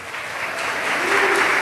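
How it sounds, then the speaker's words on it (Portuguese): Audience applause welcomes a guest onto the stage at a digital innovation association assembly, a brief steady wash of clapping that swells slightly. "Uma salva de palmas para a Andrea."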